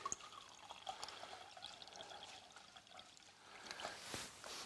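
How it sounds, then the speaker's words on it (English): Iced water poured from the fridge into a cheese straw pastry mix, a soft, faint trickling splash of a small amount of liquid running steadily for a few seconds, close by, with no one talking over it. "Now we're going to add a tiny bit of water just to make it bind together."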